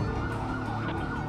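A fire truck siren wails steadily on a crowded street lined with parked motorcycles and cars, loud and continuous over traffic rumble for the whole moment.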